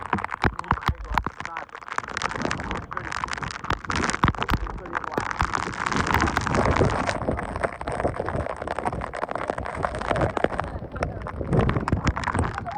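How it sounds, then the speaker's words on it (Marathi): Heavy rain and gusting wind at Karnala Fort near Panvel make a loud, constant, close roar of buffeting wind and pattering rain. Voices are heard amid the noise. "सगळा पाऊस कानात येतोय काही एक साईडने वारा येतोय"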